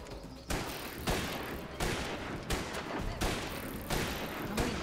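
Gunfire in the Naughty Bear video game: bursts of shots start around half a second in and return in regular volleys about every second, loud and close, with clattering mechanical noise between them.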